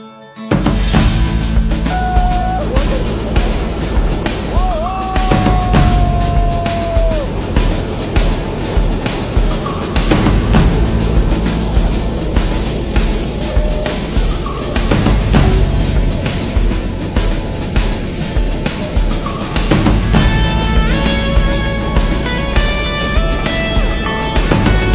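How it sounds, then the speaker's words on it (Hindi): Loud, continuous rumble of a local train departing toward Goram Ghat in Rajasthan, with long tonal whistles and squeals rising above the steady rolling noise throughout. "ये जो ट्रेन है मेरे पीछे, ये रवाना होने वाली है गोरम घाट के लिए।"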